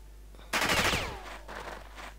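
Gunfire in the Jagged Alliance 2 game, one sharp loud burst of shots that rings out and decays, followed by a fainter second burst, with no talking.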